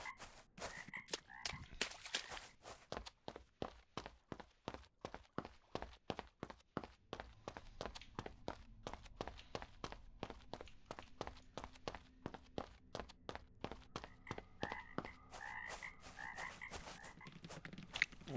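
Frog bait in the GONE Fishing video game gives repeated rhythmic croaks in quick pulsing bursts, mixed with a steady patter of footsteps throughout, close and fairly loud with no talk.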